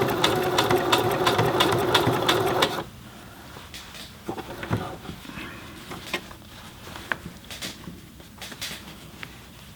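A Singer Heavy Duty 6800C sewing machine stitches in a loud rapid mechanical chatter for about three seconds, then stops, leaving quieter clicks and handling noises of fabric and parts.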